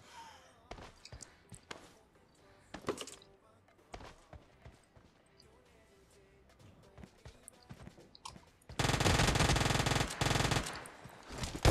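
An Uzi submachine gun fires in PUBG Mobile, with scattered single shots early on and then a dense, loud continuous burst near the end, over game sounds and occasional voices.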